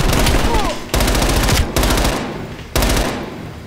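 Loud, sustained automatic gunfire from the Call of Duty Black Ops Cold War campaign, rattling in dense bursts that break off briefly and resume, with no pauses of quiet between volleys.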